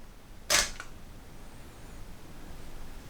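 A single crisp camera shutter fires at f/2.8, ISO 100 and a 1/60 shutter speed, a short close click followed by a faint trailing rattle, then quiet room tone.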